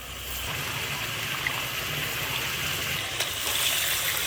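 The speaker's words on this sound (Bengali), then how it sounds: "এবার একটু জল দিয়ে দেবো।" Water poured into a pan of egg curry, a continuous close gushing and trickling wash that stays steady and fairly loud throughout with no talk.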